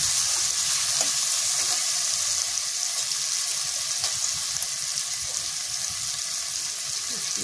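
Spices frying with tomatoes in a pan for kalo chola ghugni give a loud, steady sizzle and crackle that runs unbroken throughout, with faint stirring scrapes and no talk.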